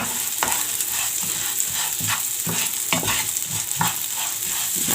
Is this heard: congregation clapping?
no